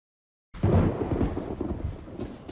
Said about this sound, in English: Sounds like the storm's already there.